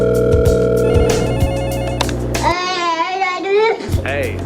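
A telephone rings repeatedly in a steady, loud trilling pattern while someone places a call, with the rings continuing for several seconds before a voice comes on the line.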